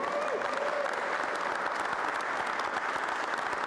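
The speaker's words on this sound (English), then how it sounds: "give a round of applause for the entire Navistar team who put this" Sustained applause from a crowd honoring the Navistar event team at a top technician team recap, an even wash of many hands clapping at moderate distance with scattered sharper claps.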